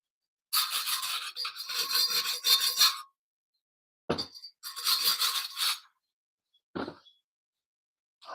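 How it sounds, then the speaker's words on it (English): Abrasive rasping of 60 grit sandpaper on metal in a garage, in two long scrubbing bursts with short scrapes between, close and fairly loud with no talking. "Sandpaper probably a little better than wire brush now."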